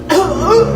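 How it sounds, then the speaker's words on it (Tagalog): An old man of 75 coughs in a short, close burst of harsh rough coughs with a throaty, chuckle-like edge. "Oh, ayan na. Inuubo na."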